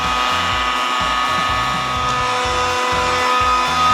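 A hair dryer blows steadily and loudly on decals on a VW T4 van, a constant whooshing roar with a high motor whine, no voices.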